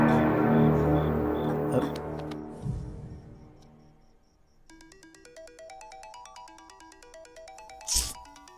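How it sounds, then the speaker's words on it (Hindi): A phone ringtone plays a bright, repeating electronic melody after a few seconds of louder music fades away, with a brief burst of noise near the end. "तुम्हारे नंबर से मुझे कॉल आ रहा है।"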